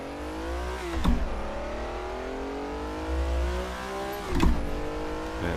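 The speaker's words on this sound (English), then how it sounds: "Yeah, I love that sound. 4-liter V12" Ferrari 330 P4 with its 4-liter V12 in the Assetto Corsa racing game, engine note climbing steadily under acceleration with two sharp gearshift breaks, loud and continuous.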